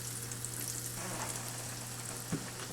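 Chicken-fried meatloaf sizzles steadily in a pan, a constant close crackling fry with a low hum beneath and one small clink partway through.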